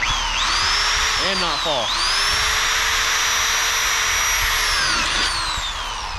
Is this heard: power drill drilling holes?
yes